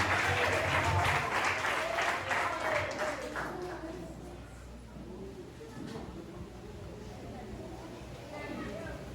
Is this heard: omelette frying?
no